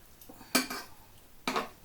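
Cajun chicken stew stirred in a pot, two distinct metallic clinks of a utensil against the pot, close and clear, with soft scraping between them.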